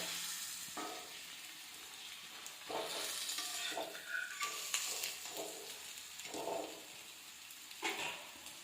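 Adai, a lentil pancake made with greens, sizzles and fries in a pan with a steady frying hiss and a few scraping or stirring clatters partway through, with no talking.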